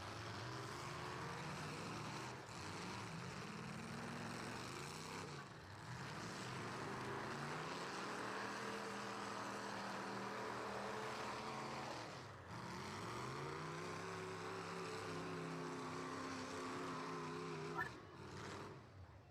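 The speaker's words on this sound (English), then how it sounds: "They said turn the car sound up." Demolition derby car engines at a 2021 county derby event, a continuous rough droning roar with revving swells and dips, heard from a distance over a long stretch.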